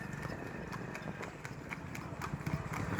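Horses on a ride trot past with a rapid, steady clip-clop of hooves, the beats fairly close and even, over a low background rumble and faint crowd noise.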